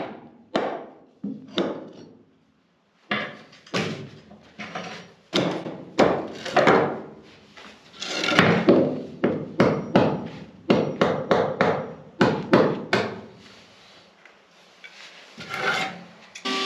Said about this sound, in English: Only thing we gotta do is bust that screw